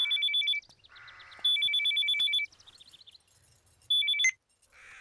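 An electronic telephone ringtone sounds in three bursts of repeated trilling beeps, separated by short gaps, heard clearly in a quiet indoor scene while a call is being placed.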